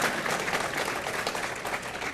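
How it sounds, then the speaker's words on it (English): Audience applause at an elementary school dedication in Arlington, a steady dense wash of clapping hands that holds at an even level for the whole stretch, with no voices standing out. "That's applause."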